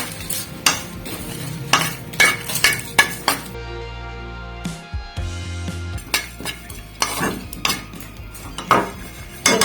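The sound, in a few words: dry roasting whole spices in a pan, stirring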